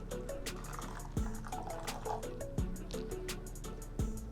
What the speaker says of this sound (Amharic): ከዛ ውሃዬን ጨምራለሁ።